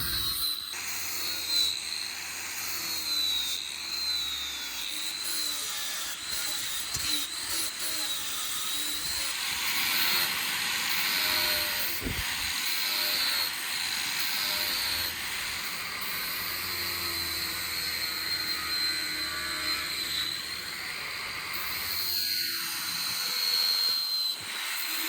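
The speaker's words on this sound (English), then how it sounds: "We use an angle grinder fitted with a grinding disc to clean up the perimeter" An angle grinder fitted with a grinding disc works the perimeter of a forged knife blank made from motorcycle chain or rebar, giving a continuous high whine and rough abrasive hiss that wavers in pitch as pressure changes, loud and close throughout.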